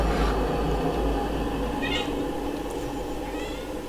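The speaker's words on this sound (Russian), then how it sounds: "моя даже кошка испугалась. Мяукает." A frightened house cat meows repeatedly in short, strained cries, heard close over a steady background hum from a computer game playing in the room.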